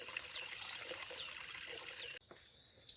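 A village water tap runs as a thin, steady trickle that abruptly drops away near the end, faint and without voices.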